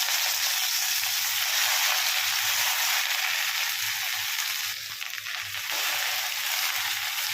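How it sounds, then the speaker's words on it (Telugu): Gongura leaves fry in hot oil for a village-style gongura chutney, giving a steady, loud broadband sizzle with no pause and a brief dip near the end, and nobody talks over it. "ఇప్పుడు ఇదే నూనెలో గోంగూర వేసుకోండి."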